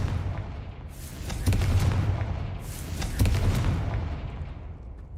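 Fiery spell blasts burst out in the Hogwarts Legacy video game, two loud booming explosions about two seconds apart over a dense rumbling game backdrop.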